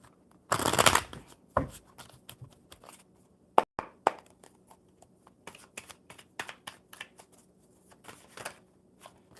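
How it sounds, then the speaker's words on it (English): Tarot cards being shuffled by hand: a loud riffle burst near the start, then scattered light taps and flicks of cards in a quiet room. "One more good shuffle for truth."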